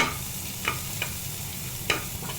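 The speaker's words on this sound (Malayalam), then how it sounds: "ഫ്രൈ ചെയ്ത് കൊടുക്കാം" Onions frying in a pan until brown for a pappadam curry, a steady soft sizzle with a few light stirring clicks from a spoon.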